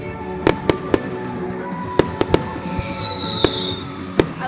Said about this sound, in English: That's where the fireworks are coming from.